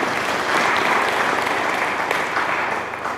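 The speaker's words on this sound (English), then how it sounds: "Let's clap for him again." An audience at a church diocesan gathering claps warmly for a speaker, a dense, even wash of applause filling the room and tapering slightly at the end.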